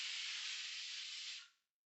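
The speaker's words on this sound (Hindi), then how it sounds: "कुकर का सिटी के लिए।" A pressure cooker whistle letting off a loud, steady hiss of steam that cuts off abruptly after about a second and a half.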